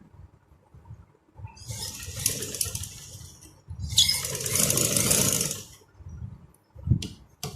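Sewing machine stitching a shalwar, running in two sustained bursts of rapid mechanical whirring separated by brief pauses, with handling clatter around them.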